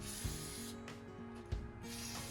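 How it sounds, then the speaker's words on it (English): WD-40 penetrating oil sprayed onto a retro 26-inch Schwinn Frontier mountain bike frame, a steady close aerosol hiss running nearly the whole time with a couple of short pauses and soft knocks. "Just giving it all a generous soaking with some WD-40 or penetrating oil of sorts."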